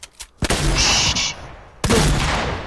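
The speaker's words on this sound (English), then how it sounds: "Don't shoot me, you bitches! Stop shooting me!" Loud, close video game gunfire erupts in two sustained bursts separated by a brief drop, dense and continuous with no talking over it.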